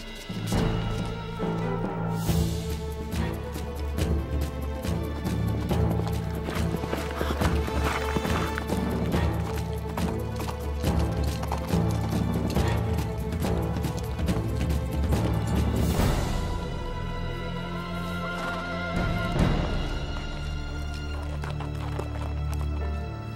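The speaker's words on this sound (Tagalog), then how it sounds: "Hinanda ko ng kabayo para sa'yo." Horse hooves clip-clop steadily under a loud, continuous music score, and a horse whinnies partway through.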